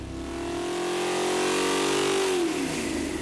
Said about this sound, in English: we gave him the honor of running it on the dyno.